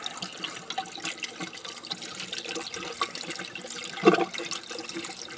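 A steady stream of water running into a Yanmar radiator gurgles and splashes nearby, with a brief louder slosh partway through and no talking.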